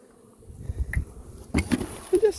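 Honey bees being shaken and moved into a hive during an installation, heard as faint, intermittent buzzing bursts with soft handling rustles in a quiet outdoor setting.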